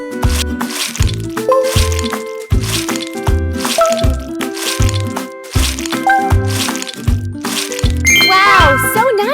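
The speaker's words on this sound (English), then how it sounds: "Mix the cake batter with an egg blender." Cake batter mixed with an egg blender in a cartoon baking game, heard as a rhythmic series of squishy cracks and bright dings and jingles repeating in regular bursts, ending in a chiming flourish.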